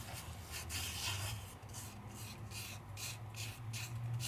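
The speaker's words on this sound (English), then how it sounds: "Then I take my finger and I lightly rub. I move all that glitter all over." A fingertip lightly rubs loose glitter across a stamped paper card, a soft, close, scratchy swishing in repeated back-and-forth strokes, quiet and alone.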